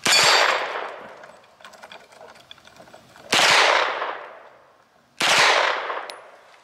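Three loud, sharp gunshots from a CZ Scorpion Evo at a shooting range, each cracking hard and ringing out in a long decaying echo, spaced a few seconds apart with faint clinks between.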